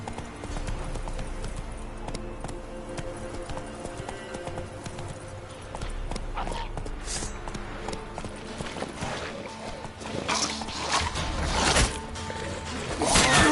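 Roach, the horse in The Witcher 3, gallops with steady, close hoofbeats, joined by heavier thuds and crashing impacts toward the end.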